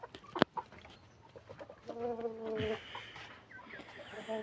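Chickens and a rooster in a coop, with a sharp knock, then clucking and drawn-out crowing calls rising mid-clip, fairly close and moderately loud over a quiet background.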